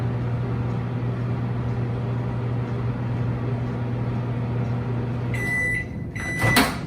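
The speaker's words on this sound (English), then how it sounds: "The microwave is almost done." A microwave melting chocolate hums steadily, then falls quiet as a few beeps sound and the door clicks open.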